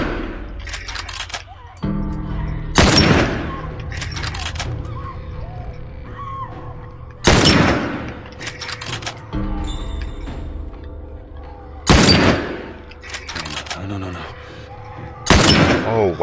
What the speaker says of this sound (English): all that gunfire and explosions and shit